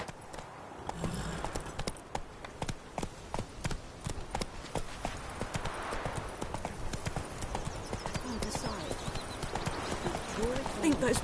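A horse in The Witcher 3 clip-clops steadily along at a walking pace, its hooves close and rhythmic, with a voice speaking briefly over the hoofbeats.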